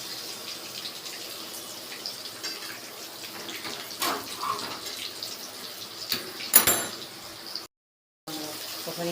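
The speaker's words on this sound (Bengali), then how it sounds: "আলুগুলো ধুয়ে দিচ্ছি।" Potatoes being rinsed under a running kitchen tap, a steady moderate stream of water with splashes and clunks as they are handled, cutting out briefly near the end before resuming.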